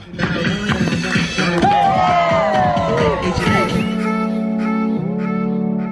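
A close crowd at a birthday gathering in New York City cheers and whoops with rising and falling shouts, then the noise gives way to a sustained, steady tone.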